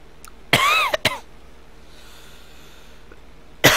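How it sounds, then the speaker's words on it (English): A person coughs in two sharp bursts close to the mic, then falls quiet before another cough starts at the end; the coughing comes from someone sick with a runny nose. "I've been coughing all day and my nose been running all day."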